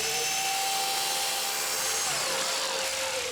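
Electric drill boring a pilot hole for a guide crown in a wall, using a Bosch dust-extraction attachment, with a loud, steady high whine running continuously and the pitch dipping slightly near the end.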